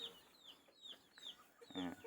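Free-range chickens raised outdoors on a small farm cluck in short, repeated calls at a moderate distance, with a louder, closer cluck near the end.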